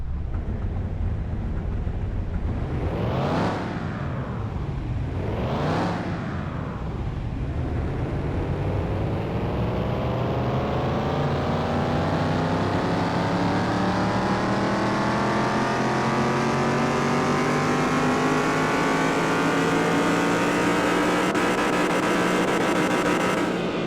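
Drag race car in Car Mechanic Simulator 2021, tuned to about 1,019 horsepower, roars through two quick revs then a long rising acceleration run, engine pitch climbing steadily and loud throughout, with no talk.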